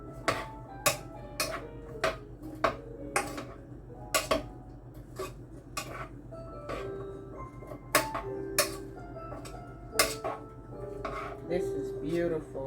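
A spoon clinks and scrapes against a pot while meat pie filling with potatoes is stirred, giving a run of sharp, close metallic ticks that slow and loosen over time.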